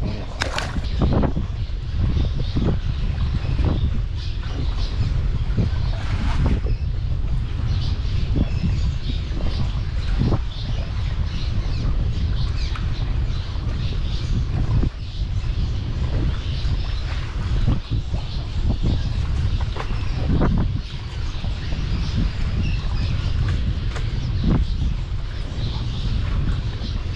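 Steady, heavy wind roars across the microphone on a boat while crappie fishing near a railroad trestle, a constant broadband rush with gusty swells and no talking.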